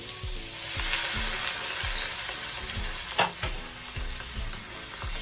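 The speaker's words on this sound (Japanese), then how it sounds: "カオマンガイスープと具をなじませるように炒めちゃいましょう" Ingredients stir-fried in a hot pan with khao man gai chicken soup for Thai-style fried rice, a steady loud sizzle under repeated scraping strokes of a spatula at an even rhythm, no voices.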